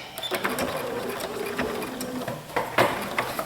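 A domestic sewing machine running a straight stitch while sewing a pleated blouse, a steady fast whirring hum with small rhythmic clicks, fairly faint and close, with brief pauses and restarts.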